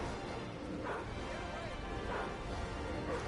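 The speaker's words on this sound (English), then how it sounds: "This dog is really barking." Barking from a dog in the video game DC Universe Online: two or three spaced barks over continuous game ambience, with a voice talking faintly underneath.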